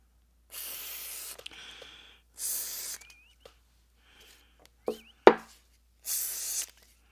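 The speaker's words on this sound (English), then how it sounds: "I'm going to spray down some of my other things here as well." Several short hissing bursts of cleaner sprayed onto Ruger Mark IV pistol parts come in separate spurts, with faint clicks and knocks of handled metal parts between them.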